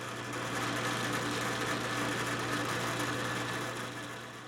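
Power drill boring holes through a new workshop base plate, a steady, loud motor whine with a constant hum that holds level and then tapers slightly at the end, without speech.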